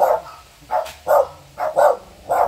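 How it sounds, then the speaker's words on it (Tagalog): Dog barking nearby in a Philippine home, five or six loud barks in a loose, irregular rhythm, standing alone with no talk over them. "Aso pala dyan?"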